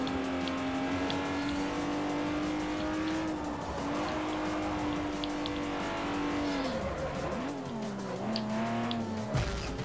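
A Bugatti Veyron in the racing video game Forza 4 drones at high revs, the engine tone dipping and shifting as it brakes hard, with tire squeal and a sharp drop near the end, all without talk.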